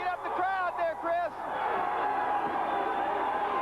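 Pro wrestling fans at a Paul Orndorff versus Cowboy Bob Orton Jr match, cheering as the crowd is worked up; a steady, building roar of voices rises after a brief stretch of commentary over it.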